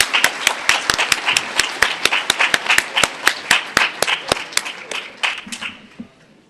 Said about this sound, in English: Please give all graduates a round of applause.